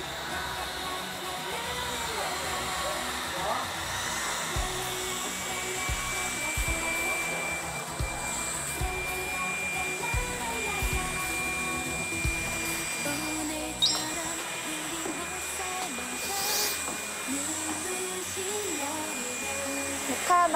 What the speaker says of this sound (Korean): 일단 청소기를 온 집안을 돌리자